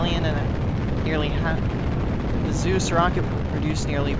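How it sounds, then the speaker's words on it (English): Zeus rocket launching on the NROL-109 reconnaissance mission, a constant heavy, rumbling roar that stays loud throughout while a voice talks over it. "liftoff of the Zeus rocket carrying the NROl 109 mission for the National Reconnaissance Office"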